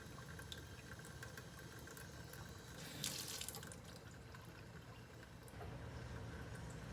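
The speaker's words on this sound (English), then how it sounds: "so the water is running down this shelf" Water running from a sink faucet onto a shelf of an egg scrubber, a steady faint hiss and splash continuing throughout with a brief louder splash midway.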